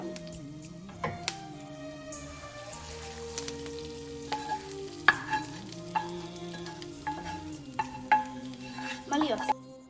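Fried tempering is tipped into tamarind rice and mixed in, with soft sizzling and crackle under repeated scraping and knocking of a spoon against the vessel, near and moderately loud.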